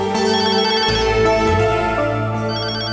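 A telephone ringtone plays on its own, a steady melodic electronic ring holding clear sustained tones throughout, loud and close in a Tamil television drama scene.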